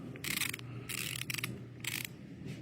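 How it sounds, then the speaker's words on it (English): Ratcheting screwdriver clicking in quick bursts, about four short runs of dry clicks at close range, fairly quiet, with pauses between. "nice ratcheting screwdriver,"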